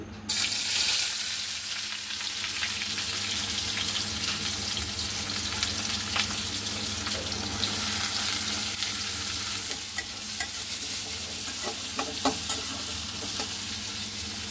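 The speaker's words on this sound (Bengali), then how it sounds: "এখন নিব পেঁয়াজ আর রসুন কুচি।" Chopped onion and garlic fry with a steady, loud sizzle in hot oil, sounding close and continuous throughout, with occasional stirring scrapes in the pan.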